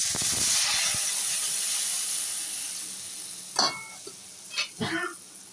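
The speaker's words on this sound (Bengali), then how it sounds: "এটা এখন ভেজে নেবো, তারপর মাছটা ছেড়ে দেবো ঝুল দিয়ে। জল দিয়ে দিলাম।" Water poured into a hot frying pan of spiced oil while making pabda fish curry, giving a loud broadband sizzle and steam hiss that slowly fades, followed by a few short stirring scrapes near the end.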